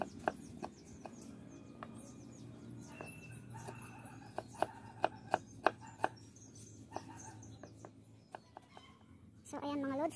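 A knife taps against a cutting board in scattered sharp chops while cutting onions and moringa leaves, mixed with a soft clucking background, and a rustle near the end.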